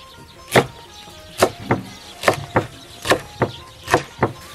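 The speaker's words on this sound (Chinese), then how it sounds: "泡煎豆切小节" Pickled beans being chopped into small pieces on a cutting board with a cleaver, about nine sharp, clear knife strikes in an uneven rhythm, close and alone with no talking.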